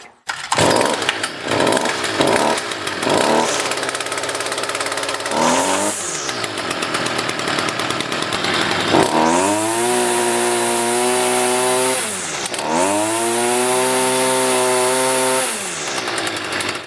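A Stihl FS38 two-stroke grass trimmer with newly replaced fuel lines is pulled several times, sputters, catches, and then revs hard twice in loud rising and falling whines, close by and with no voices.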